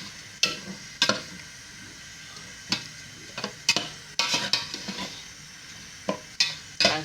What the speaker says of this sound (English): you have to mix everything together